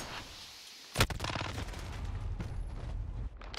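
Shotgun blasts in an online first-person shooter game, one sharp loud report followed by a rattling, crackling tail and a fainter second shot near the end.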